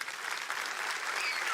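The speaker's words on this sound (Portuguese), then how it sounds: "eu gostaria de te convidar para aplaudir Jesus por causa disso" A church congregation applauds in a steady, dense patter of many hands clapping together at an even, moderate level without pause.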